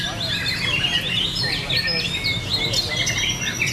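Songbirds at a bird singing contest in Hanoi give bright, repeated chirps and short trilled phrases over a constant low murmur of people talking in the background.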